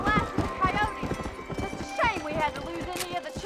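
Horse hooves clip-clop in a steady, rapid rhythm while riding in the Red Dead Redemption video game, continuous and fairly close, with occasional whinnies and game sounds mixed in.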